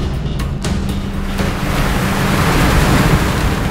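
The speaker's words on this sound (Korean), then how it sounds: "파도의 움직임이 심상치 않습니다" Sea waves wash and surge around a fishing boat hauling nets for autumn yellow croaker and mackerel, a steady broadband roar with wind buffeting the microphone, no voices.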